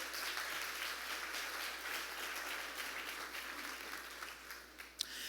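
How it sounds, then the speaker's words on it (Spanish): A church congregation applauds in a sustained, fairly distant wash of claps that gradually thins toward the end, with one sharp knock near the close and no talk. "Alguien le puede dar un aplauso al Espíritu Santo por esto."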